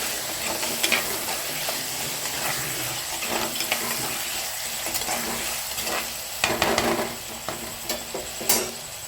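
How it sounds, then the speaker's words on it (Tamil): Tomatoes sautéing with salt in a pan make a steady, fairly loud sizzle with occasional bubbling pops and stirring noises throughout, with no talk. "தக்காளி வதங்கிறதுக்கு வந்து நீங்கள் உப்பு சேர்த்தா சீக்கிரம் வதங்கிடும்"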